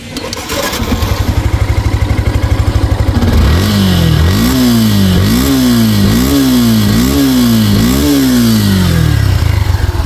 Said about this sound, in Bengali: গাড়িটা এখন স্টার্ট করে সাউন্ড কন্ডিশন দেখাবো